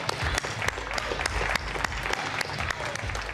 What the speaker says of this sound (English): Please give me a round of applause to welcome Erik and Adrien to the stage.